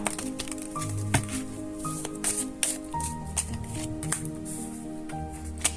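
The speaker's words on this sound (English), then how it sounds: "They asked me to shuffle one more time." Tarot cards being shuffled by hand, a run of quick crisp riffles and slaps close to the microphone over soft music, with irregular bursts of card noise.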